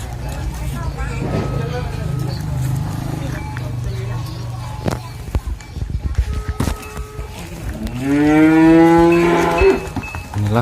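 Cattle, prospective breeding cows at a sale, give one long, loud, close moo near the end, after a stretch of steady background noise and voices.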